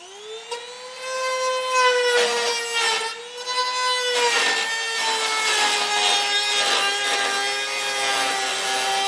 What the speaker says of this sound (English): I think the easiest way will be just to use a rotary tool